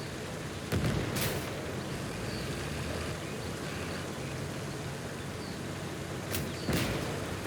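Mortar fire in the war game Call to Arms: Gates of Hell: two sharp distant booms about six seconds apart over a steady low battlefield rumble.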